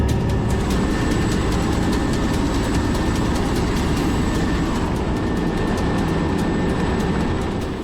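A Finnish border guard helicopter in flight gives a loud, constant engine and rotor roar with steady low rumble and faint high whine, heard from inside the cabin throughout, no talk.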